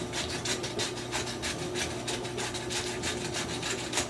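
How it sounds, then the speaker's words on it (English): A pepper mill grinds fresh black pepper in a series of rapid, rhythmic rasping twists over a steady background hum from a dishwasher, close and moderately loud. "A little bit of fresh ground pepper."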